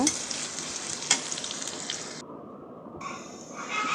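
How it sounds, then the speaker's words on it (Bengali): Onions frying in hot oil in a pan, a bright, dense sizzle with a few stirring knocks, close and loud, briefly dropping off before resuming. "এখানে আমি পেঁয়াজ কষায় নিতেছি।"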